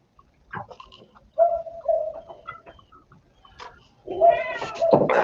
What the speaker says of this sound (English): I hear dogs and cats and.